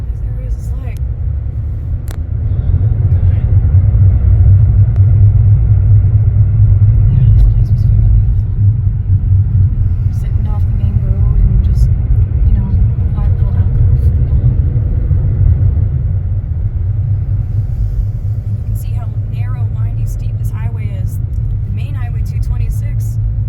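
Car driving along a storm-damaged mountain road in western North Carolina after Hurricane Helene, with a loud, steady low rumble of engine and tires on rough pavement throughout, close and continuous.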